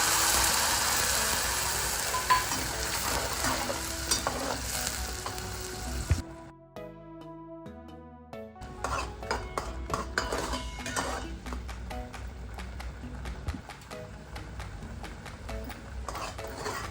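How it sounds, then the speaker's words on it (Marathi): Ground tomato and onion paste sizzling loudly in hot oil and ghee in a pan while cooking red spiced chicken gravy, a steady fry with utensil clatter and stirring, briefly quieting midway before the sizzle resumes. "आपण टमॅटो आणि कांदा वाटून घेतला आहे त्याच्यात परतून घेऊया"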